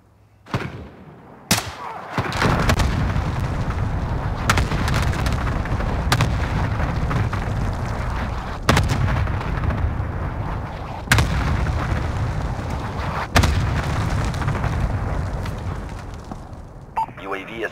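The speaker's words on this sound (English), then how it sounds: "Friendly cluster strike inbound" Cluster strike explosions in a video game form a loud, continuous rumbling barrage, with heavy booms landing one after another at irregular intervals and indistinct voices mixed underneath.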